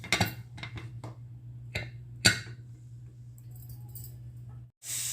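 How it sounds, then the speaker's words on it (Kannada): Lid of a pressure cooker being closed in a home kitchen, a few sharp metallic clinks and clacks up close over a low steady hum, then quiet. "ಈಗ ಕುಕ್ಕರ್ ಬಾಯಿ ಮುಚ್ಚೋಣ."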